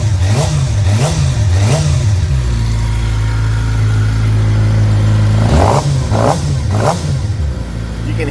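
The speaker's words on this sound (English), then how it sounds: "You can hear the air getting sucked in right here." A 2022 Suzuki GSX-R 600 sportbike engine revs loudly in several sharp blips, then holds a steady high drone before more quick revs, with the rush of air being drawn through the intake, close and with no talk.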